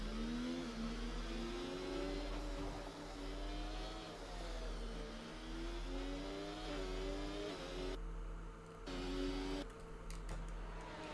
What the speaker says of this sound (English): This will be the first car out onto the circuit.